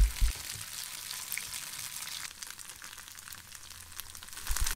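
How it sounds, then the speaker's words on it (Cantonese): Slices of Hong Kong turnip cake crackle softly as they pan-fry until crisp, a quiet, steady sizzle with a few brief knocks from the pan. "跟住煎脆埋另一邊咧"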